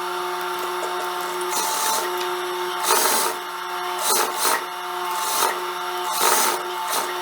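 A sewing machine runs a seam joining fabric right sides together along armholes and neckline for a jumpsuit, a steady mechanical hum broken by several short, louder bursts of stitching, close and without talk.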